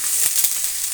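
Brinjal frying in oil for a gojju, a brief, steady close hiss of sizzling with a couple of faint stirring taps.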